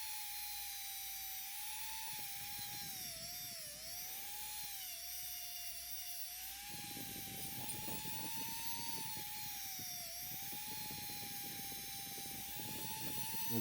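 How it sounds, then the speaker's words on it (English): A high-speed rotary tool with a wire wheel polishes a part of a 1973 Lesney Matchbox Rod Roller toy, giving a continuous shrill whine that wavers slightly in pitch, with gritty scratchy contact noise joining in the latter half. "the wire wheel is also doing some polishing"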